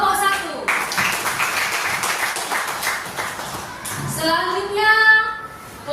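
A classroom full of students claps for a student group, a few seconds of dense, even applause, with voices heard before and after it.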